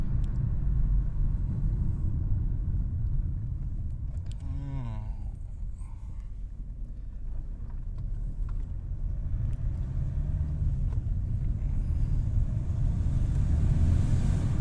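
Ford Focus 1.6 TDCi diesel car with an air flow circuit fault driving up the road in first gear, a steady low engine rumble and road noise from inside the cabin, with a faint short whine partway through.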